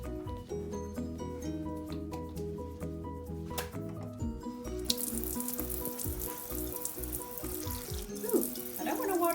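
Water poured from a container onto freshly sown seeds covered with potting soil in an indoor pot, a steady trickling and splashing that grows louder and more hissy partway through, heard close without talk.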